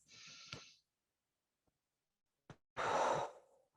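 Deep breaths taken during a heart-focused breathing exercise in an EFT tapping session: a long soft exhale, a pause, a short sharp intake, then a louder, fuller breathy exhale, close and alone with no talk.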